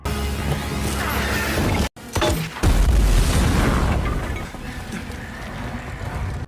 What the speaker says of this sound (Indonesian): Drasa pun mengambil senjata peledak untuk membuat celah besar dan memberi mereka kesempatan.